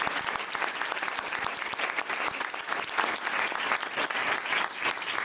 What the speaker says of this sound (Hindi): तो मैं चाहूंगा कि खुदावंद के जलाल के लिए जोरदार ताली।